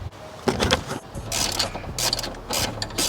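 A hose clamp tightened on a ram air filter intake kit fitted to a Corsa makes a close, rapid mechanical clicking, like a ratchet working in quick bursts, with a couple of short pauses between runs.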